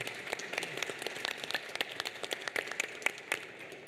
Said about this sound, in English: Join me in giving my panel, my distinguished panel, a round of applause.